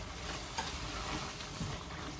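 Ground turkey is stirred into a simmering stew in a pot, giving a faint, steady sizzle with a couple of soft scraping stirs, quiet and close with no speech.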